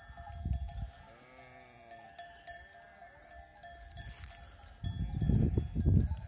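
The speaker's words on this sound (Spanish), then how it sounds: "Ve el ruido que hacen las ovejas comiendo." A flock of sheep graze in the open. Low rustling, munching bursts at the start and end frame a short wavering bleat, with faint cowbell-like tinkles in the background.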